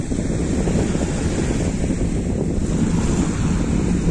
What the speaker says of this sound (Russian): Жалко, ветер дует.